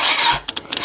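A Honda Shadow 1100 that has sat for years cranks over and lets out a few sharp pops from the exhaust, loud near bursts after a brief whine of cranking.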